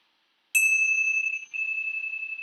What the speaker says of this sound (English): let's just close our time together with the ringing of the bells of hope.